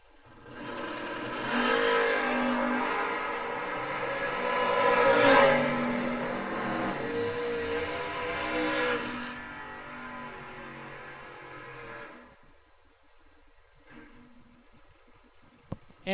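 At a drag racing event, dragster engines roar and rev loudly at a distance and build to a peak before fading away. A quieter stretch follows with faint background noise.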